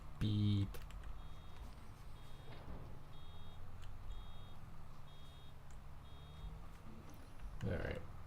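Faint repeating reversing beeps from a vehicle in Farming Simulator 22, a steady row of short evenly spaced tones under low engine rumble, bracketed by brief louder noises at the start and end.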